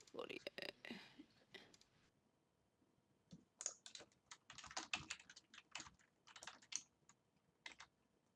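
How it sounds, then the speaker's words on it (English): Computer keyboard typing in an online session, soft irregular bursts of key clicks, fairly faint and picked up through a call microphone, with brief talk at the start. "I can hear you typing."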